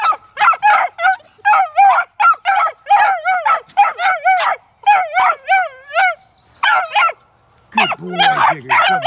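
A hound puppy barks, yips and whimpers in repeated short, high-pitched bursts, close and loud, with brief pauses between calls and a person speaking near the end.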